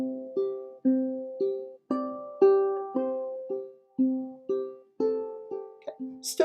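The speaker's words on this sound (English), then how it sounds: "literally just do another pinch of an open A. That will sound like this." Ukulele plays repeated open A pinches in an alternating thumb pattern, clear plucked notes ringing close and moderately loud in a steady rhythm, each decaying before the next.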